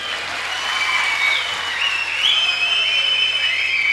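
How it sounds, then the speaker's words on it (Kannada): Audience at a live stand-up comedy show in Hassan clapping, a dense continuous burst of applause from a large crowd that swells slightly toward the end, with no talking. "ಚಪ್ಪಾಳೆ ಬಡಿಯಲ್ವಾ?"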